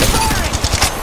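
Rapid gunfire from Apex Legends Mobile crackles in a quick, close burst of shots over game ambience.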